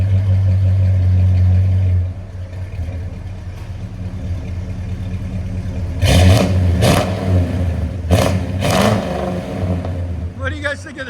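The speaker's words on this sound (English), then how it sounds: "Classic Flowmaster sound." A 1972 Chevy C10 with a 350 V8 and true dual Flowmaster Super 44 exhaust settles from a loud idle, then gets several sharp throttle blips, each a brief, deep roar that drops back to a throaty rumble, recorded up close.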